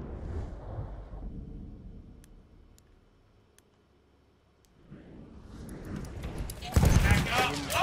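A video game battle: a mortar strike and gunfire, with sharp isolated cracks through a lull, then a loud dense burst of shots and explosions rising near the end. People shout over the combat.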